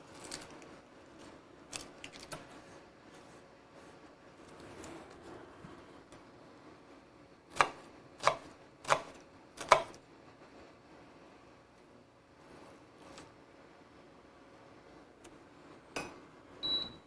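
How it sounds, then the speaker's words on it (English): A knife chops onion in a home kitchen: quiet background broken by a few sparse, sharp cutting clicks, then a tight run of four crisp chops and a couple more later. "Doesn't really matter how you cut the onions, just sort of a free-form chop."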